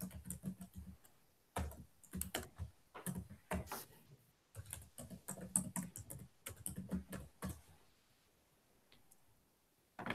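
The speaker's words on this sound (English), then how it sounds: "I needed to finish typing something real quick." Typing on a computer keyboard during a math tutoring session, with irregular bursts of close, clicky keystrokes separated by short pauses and no talking.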